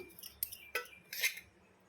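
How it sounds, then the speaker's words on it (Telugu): A spoon clinks and scrapes as salt and chili powder are mixed into raw fish for a Telugu korameenu fish curry, with three or four short metallic taps and stirs, quiet and close, no talking. "అన్నీ ఒకసారి కలిపేస్తున్నాను"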